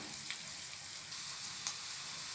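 Curry leaves and dried red chillies spluttering in hot tempering oil, a dense continuous sizzle with a few sharp pops and crackles, steady and close.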